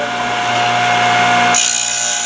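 Thorvie AV-40 sharpening machine grinding a blade edge, a steady close abrasive whine with a constant tone that brightens and sharpens partway through as the blade contact changes.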